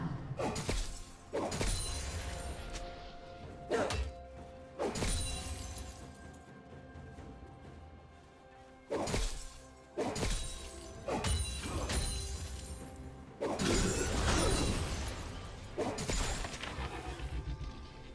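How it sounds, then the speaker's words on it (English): Repeated crunching shatter-and-thud impacts from League of Legends top-lane play, likely turret plates breaking, arrive in several loud bursts over a steady game backdrop with swooshes between them. "Turret plate will fall soon."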